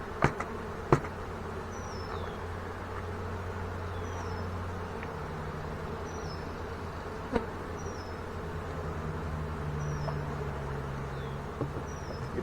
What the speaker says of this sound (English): a lot of bees hanging out on the cover